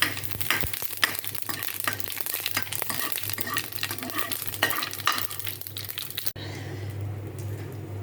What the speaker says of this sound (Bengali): তেলের উপর জিরাগুলা দিয়ে জিরাগুলা উঠায় রাখবো